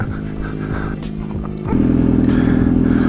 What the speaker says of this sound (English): waiting for the engine to warm up